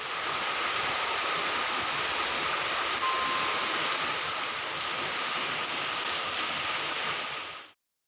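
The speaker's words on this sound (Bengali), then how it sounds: "আর দুপুর গড়িয়ে বিকেল আসতেই শুরু হয় শিলিগুড়ি জুড়ে বৃষ্টির" Steady, dense rainfall pours across Siliguri, an even hiss of drops on surfaces that continues unbroken and then cuts off abruptly at the end.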